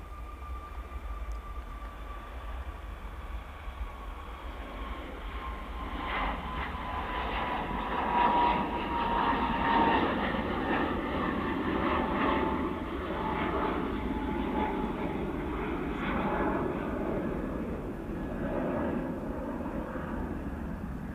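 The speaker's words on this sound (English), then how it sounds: "Here's the Iceland there, just about to rotate" An Icelandair airliner takes off at Manchester Airport, its engine roar building to a steady, fairly distant rumble with a faint whine over it, heard alone and without talk.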